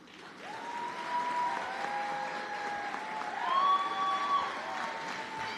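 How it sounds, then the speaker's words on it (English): An audience applauds steadily at a nursing school white coat ceremony, the sustained clapping filling the hall at moderate volume, with a faint tonal sound running underneath. "Clap it up for this group."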